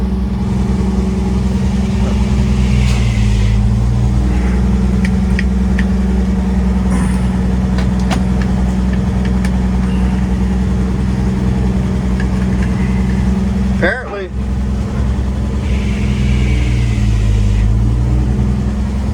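A 1955 Chevy 3100 pickup truck engine runs loud and close, holding a steady low idle drone for the whole span, with a brief clunk near the end.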